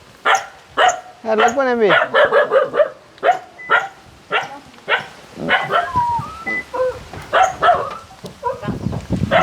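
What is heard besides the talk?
dog barking and whimpering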